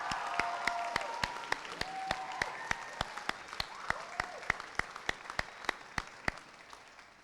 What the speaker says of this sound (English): How about we give Mr. Farrow a tremendous round of applause.